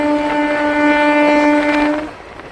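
A Howrah local train at Mourigram station sounds a loud, sustained horn for about two seconds. The blast then cuts off, leaving rail rumble.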